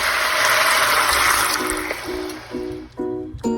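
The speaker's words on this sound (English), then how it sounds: "1 cup of water." A cup of water poured into a pot of seared pork belly for Chinese braised Hong Shao Rou: a close, rushing pour that thins into trickles and splashes near the end, with no talk.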